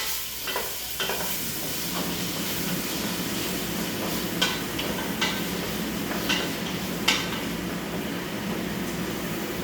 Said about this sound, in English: I use a wooden spoon usually. Just kind of mix this up.